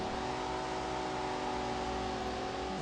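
A Mercedes-Benz AMG in the Car Parking video game revs hard with its wheels spinning at launch, giving a continuous steady engine drone, fairly quiet and without speech.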